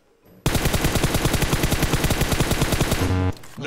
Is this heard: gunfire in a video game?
yes